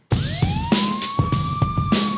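Police car siren rising into a steady wail, close and loud, with regular rhythmic thumps pulsing underneath for a couple of seconds.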